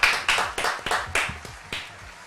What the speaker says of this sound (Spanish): aplausos a los pibes.